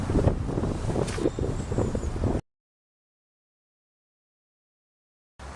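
Wind blasting into an outdoor microphone with heavy low rumble and buffeting for about two seconds, then the sound cuts out completely before a brief return at the end.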